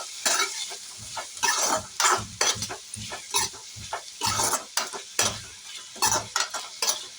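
Potatoes fry with cumin and curry leaves in hot oil while a spoon stirs them. Close, rhythmic scraping strokes cut through a steady sizzle, with no talking.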